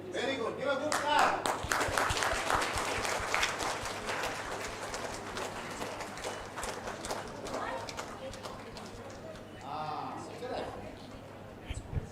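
Yoga class participants clap together outdoors in a burst of fairly close, uneven hand claps that thins out partway through, with an instructor's voice and some chatter around it.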